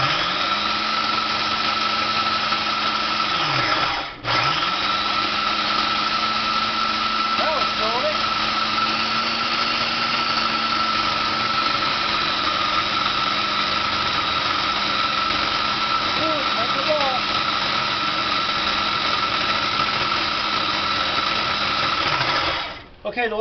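Food processor pulsing peanuts into homemade peanut butter, a steady loud whir that runs nearly continuously, with one brief dip as the motor stops and restarts early on, then cuts out at the end.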